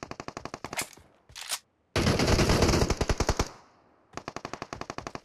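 Automatic gunfire in PUBG Mobile on the Erangel map: loud, close, rapid machine-gun bursts with short gaps between them and one long sustained volley, with no talk.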